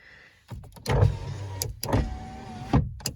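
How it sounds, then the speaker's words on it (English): Power window motor on a 1995–1999 Dodge Neon door running in two short whirring strokes, each framed by clunks and thumps from the door, close and fairly loud with no talk. "Power windows are working."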